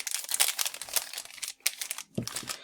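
A thin foil wrapper on a trading card booster pack crinkles and tears open in quick bursts of crackling, close and fairly soft, with a brief pause before a final rip.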